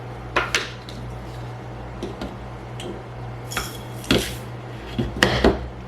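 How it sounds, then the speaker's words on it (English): Pickling spices such as coriander seeds being stirred together in a bowl, with scattered clinks and scrapes of utensil against dish, some close and sharp, in quiet surroundings. "I'm just going to mix the 2 of these together"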